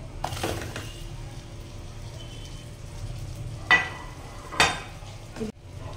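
Pre-fried chicken goes into a pan of hot garlic butter, a low frying hiss broken by a few distinct clattering, sizzling bursts from stirring and pan contact.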